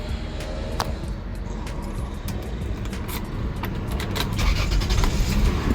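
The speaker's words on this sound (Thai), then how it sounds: "สตาร์ทรถให้ดูนะครับ" A Mercedes-Benz W123 300E turning over and catching on the first try, with clicks and handling noises, then a low engine rumble that swells toward the end, recorded close up.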